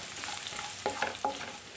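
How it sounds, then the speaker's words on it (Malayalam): Ginger and garlic sautéing in oil in a pan for a gooseberry pickle, a steady close sizzle with three sharper scrapes of stirring, no voices. "ഇഞ്ചിയും വെളുത്തുള്ളിയൊക്കെ ഒന്ന് മൂത്ത് വരുന്നുണ്ട് അല്പസമയം കൂടി ഒന്ന് വഴറ്റിയെടുക്കാം"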